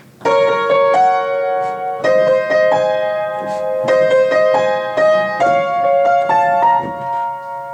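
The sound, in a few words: piano right-hand part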